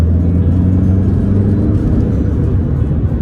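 A 2007 Audi A3 S-Line with a 2-litre 140-horsepower diesel engine running, a steady low rumbling drone with a faint whir, loud and close and unchanging.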